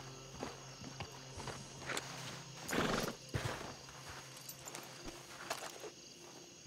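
Hooves clip-clop steadily as a horse walks in the RedM video game, with a brief whinny and a louder burst near the middle, heard alone at moderate distance.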